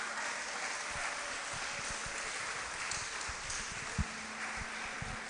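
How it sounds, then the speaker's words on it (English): Sustained applause from a graduation ceremony audience for the standing class of 2021 at a preparatory school, a steady wash of clapping with scattered low thumps, no talk. "Please give them a round of applause."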